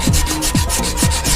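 Sandpaper rubs back and forth over the spokes of old Mitsubishi Starion alloy wheels in quick, even strokes, close and loud with no talk.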